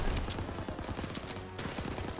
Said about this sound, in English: there's an SMG up there